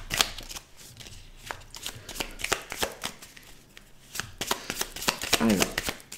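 Tarot cards are shuffled by hand for a 13-card spread, a close, busy run of riffling snaps and slaps with short pauses, while someone speaks French over parts of it.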